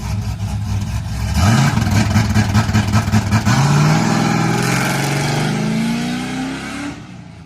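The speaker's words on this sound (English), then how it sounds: "All right, let's see what the two-step does." An LS-swapped Ford F-150 truck engine held on two-step launch control, loud and close, revving up sharply then popping rhythmically against the limiter before the pitch sweeps upward and fades.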